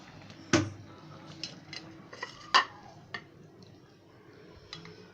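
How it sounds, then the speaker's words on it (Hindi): Chicken vegetable soup being dished out of a cooking pot, with a sharp metallic ladle clank against the pot and several lighter utensil taps and scrapes spaced through a quiet kitchen. "अब हम इसको डिश आउट करेंगे, फ्लेम को हम ऑफ कर देंगे।"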